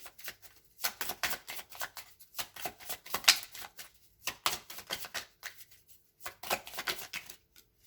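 Tarot cards are shuffled close up in quick riffling bursts, several crisp flurries separated by short pauses, quiet and with no voice over them.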